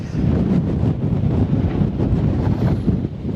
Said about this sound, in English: There's heaps of wind on the back, mate.